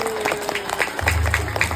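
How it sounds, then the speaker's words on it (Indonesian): Crowd applause closing an otter show at a zoo stage, brief steady clapping with a low hum rising under it partway through. "Kita berikan tepuk tangan yang meriah semuanya sekali lagi"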